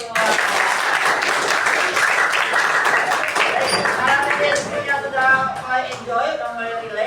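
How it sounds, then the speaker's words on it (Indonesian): Lively applause from a group of students in a classroom, dense clapping that carries on steadily, with voices and a few calls mixed in toward the end. "Oke, tepuk tangan untuk kita semua."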